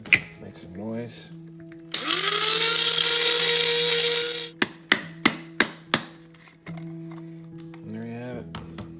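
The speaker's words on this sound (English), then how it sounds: "I'm gonna put it in a spice grinder, which is basically a coffee grinder that I specify as being only for spices." An electric spice grinder, a coffee grinder kept only for spices, whirs loudly in one sustained burst of about two and a half seconds, its motor pitch climbing as it spins up. Sharp taps and a person's talk follow.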